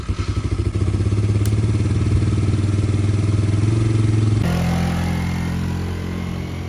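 A KYMCO Mongoose 90 ATV engine revs and runs steadily as it rides around a parking lot, loud and close, its pitch shifting as the rider changes speed.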